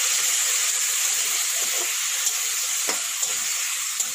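Fish curry masala for shol mach kalia being sautéed with water, a loud, steady hissing sizzle throughout, with a few faint clicks of stirring, close and alone with no talking.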